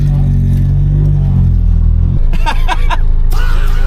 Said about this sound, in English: This wonderful gentleman has agreed to let me ride along in his insane CRX.